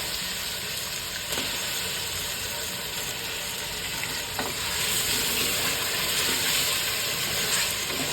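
Half a kilo of chicken sizzles and fries steadily in a pan for shami kabab while a spoon stirs it. Faint scraping strokes run through the continuous loud hiss, with no voices.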